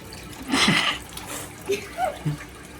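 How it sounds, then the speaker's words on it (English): Dirty water is drained out of a fish tank, a brief sloshing gush followed by a few small trickles and drips, close by, with a voice speaking faintly in the background. "This is how you drain the water out with a lot of fish poop in it"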